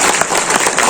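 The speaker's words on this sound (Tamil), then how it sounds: "கைத்தட்டிருங்க" A debate-forum audience at a Tamil pattimandram on the taxi trade claps, giving a dense, steady wash of applause from many hands, loud and continuous throughout the short moment.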